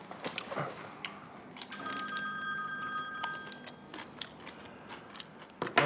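A telephone rings during a scene in a Chinese urban romance TV drama: a steady electronic ring in the middle, fairly quiet and close, with soft room noise and small clicks around it.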